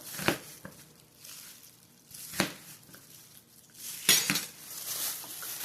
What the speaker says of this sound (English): we're going to give my onion a rough chop